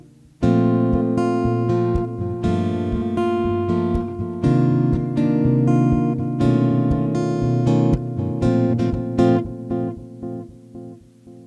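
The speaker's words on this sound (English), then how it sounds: "Now with a little bit of delay." A full-size Enya X3 Pro carbon fiber guitar, plugged in with a delay effect, rings out with strummed chords and picked phrases that trail into echoing repeats, close and alone with no voices.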